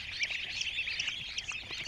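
Continuous high-pitched peeping from many Black Hole breed ducklings at once at a hatchery in Mymensingh, a dense, steady chorus of chirps with no pauses and no talking.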